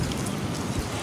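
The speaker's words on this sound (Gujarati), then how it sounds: "ભાવનગરમાં આવી ગયો વરસાદ" The first monsoon rain falls in Bhavnagar as a steady, dense hiss of rain with a low rumble underneath, heard close and fairly loud.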